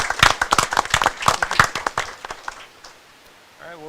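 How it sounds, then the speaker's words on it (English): An audience at a school district board of education meeting claps in a short burst. The applause is close and lively for about two seconds, then fades quickly into quiet room tone with a faint voice at the end. "One more round of applause."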